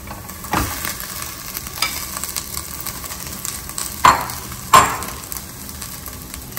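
Rice with salt is stirred and fried in a pan for coconut rice. A soft continuous sizzle is punctuated by several distinct scraping spatula strokes, two louder ones near the end, heard close up.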